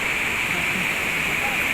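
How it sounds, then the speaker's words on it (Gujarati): A waterfall on the Kedarnath trek roars as a steady, loud, broadband rush of falling water, continuous and unbroken throughout with no other sounds standing out. "સામે છે એ વોટરફોલ છે મસ્ત એવો."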